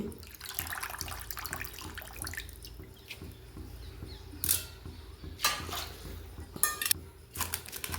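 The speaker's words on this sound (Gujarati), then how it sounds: "સારી એવી કોથમીર ધોઈ નાખીશું" Coriander leaves are rinsed under a running tap in a kitchen sink, with steady splashing water, soft dripping, and a few louder splashes as the leaves are handled, close by and without speech.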